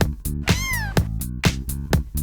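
A domestic cat meows repeatedly, about four or five short close calls in a steady rhythm, one drawn out with a falling pitch, with no talking over it.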